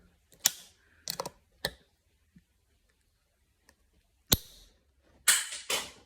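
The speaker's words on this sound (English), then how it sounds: "I've got the screwdriver just sitting underneath the tab, and then I'm just going to twist the screwdriver" A screwdriver is twisted under a plastic tab on a rear view mirror, producing a handful of sharp, separate clicks and scrapes with quiet pauses between them.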